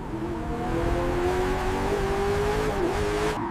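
Lamborghini Revuelto supercar engine held at a steady high-speed drone on a track test run, a loud continuous tone that rises slightly in pitch with a brief dip near the end.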